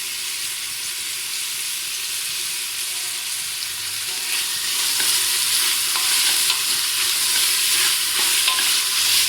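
Tomatoes and mint sautéing in a pan for goat leg paya curry, a steady loud hiss and sizzle that swells partway through, with faint stirring scrapes and no talk.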